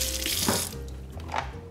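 Boiled water pours into a bowl in a kitchen, a short steady stream splashing close up, used to blanch calf liver.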